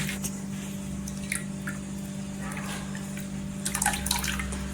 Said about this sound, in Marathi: हे बघा चोथ्यातनं पण दाबून दाबून घेतलेला आहे